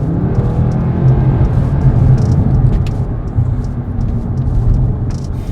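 Mercedes C63 in sport mode, its engine giving a loud, deep, steady rumble from inside the car while accelerating, with no one talking.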